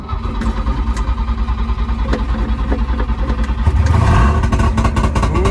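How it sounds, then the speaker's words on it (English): An old truck engine with no exhaust pipe fitted fires up and runs, a loud, raw, steady rumble that sputters at first and then swells as it revs higher near the end. "Oh, it sounds awesome."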